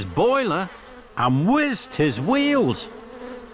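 A cartoon bee-swarm sound effect from an animated Thomas & Friends children's episode, with swooping, pitch-gliding buzzes in three loud bursts while a voice briefly exclaims.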